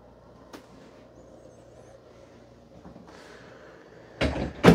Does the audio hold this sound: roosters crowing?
no